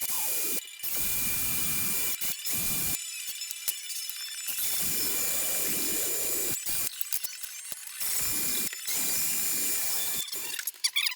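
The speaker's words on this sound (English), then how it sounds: "I'm going to go ahead and drill that out real quick." A power drill whirs in short repeated bursts with brief stops between, close and harsh, with grinding mechanical chatter.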